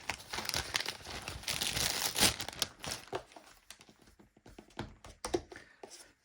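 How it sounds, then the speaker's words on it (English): A plastic bag is handled and crinkled at close range, with dense, crackling rustles that fade into scattered lighter crinkles and taps. It happens during bookbinding work while glue is being stored. "then I will take a plastic bag"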